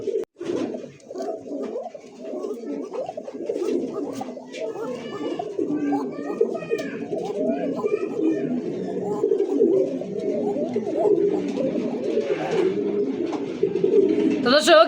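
Arabian Coca pigeons coo in steady, overlapping low murmurs at a pigeon sale, close and continuous, while people talk throughout.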